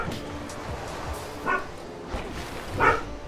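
A dog barks in the video game Pyre, with a few sharp yaps standing out over steady game music and background sound.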